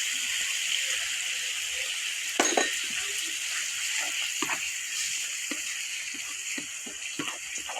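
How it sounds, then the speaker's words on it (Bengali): Spices with Kashmiri chilli and yogurt sizzle softly in a pan while a spoon stirs them, producing scattered scraping clicks and taps over a quiet, constant hiss. "কাশ্মীর মরিচ দিয়ে দিলাম নাড়াচাড়া করে আমি দই দিয়ে দিলাম"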